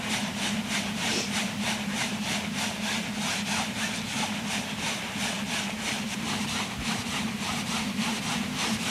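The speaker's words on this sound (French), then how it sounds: "Ce frottement, c'est celui d'une chercheuse en expédition sur la banquise qui tente de se réchauffer." A researcher on an ice floe rubs herself briskly to warm up, making fast, rhythmic, scratchy rubbing strokes that sound close and steady, with no talk.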